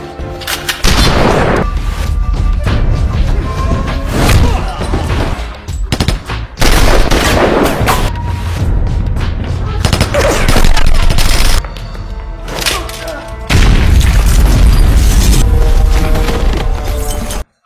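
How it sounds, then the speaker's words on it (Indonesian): Loud, dense gunfire in a gangster film shootout at a police station: rapid automatic bursts and crashing shots in near-continuous volleys with brief gaps. "Fat akhirnya yang menembak Wu hingga tewas. Terlihat kantor polisi sekarang menjadi medan peperangan."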